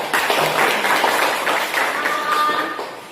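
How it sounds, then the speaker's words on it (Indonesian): A classroom of students claps for a group after their presentation, a dense, close burst of many hands with a brief voice and faint tone mixed in. "Oke, beri tepuk tangan dulu."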